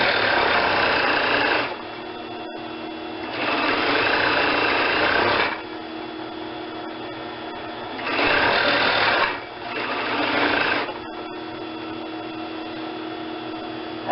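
A sewing machine stitches a seam at a medium stitch length, running in steady buzzing bursts of a couple of seconds separated by quieter pauses, close and fairly loud.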